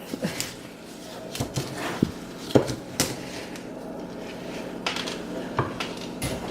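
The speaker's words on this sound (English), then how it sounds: "is stirring in the noodles with our peanut butter and butterscotch" Noodles being stirred into a thick peanut butter and butterscotch mixture in a bowl, with irregular scraping and clinking of a utensil against the dish, close and moderate.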